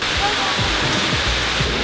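Steady, loud rush of flowing water from an indoor fountain in the Dubai Mall, a dense continuous splashing wash that fills the whole clip with no pauses.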